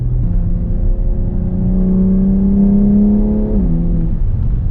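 A 2020 BMW X3 M SUV engine revs up steadily with a rising whine, then the pitch drops sharply as the automatic gearbox shifts instantly, continuing loud and close.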